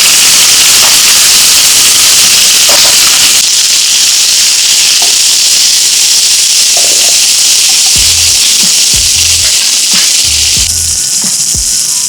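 Garlic and chili frying in a pan for eggplant sambal give off a loud, steady broadband sizzle and hiss that runs unbroken throughout, with a few soft low knocks of pan handling near the end.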